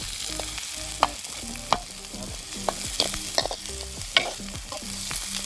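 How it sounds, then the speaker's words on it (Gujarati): Onions fry in a pan at a jungle campsite while a spoon stirs them, giving a soft steady sizzle broken by repeated metallic scraping knocks and clinks against the pan, close and moderately quiet, with no voices. "હવે આપણે ડુંગળી નાખી દઈએ."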